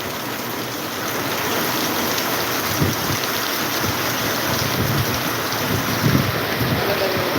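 Heavy monsoon downpour in Latur, a steady dense roar of rain with wind buffeting the microphone, continuous and loud throughout with a few slightly stronger gusts.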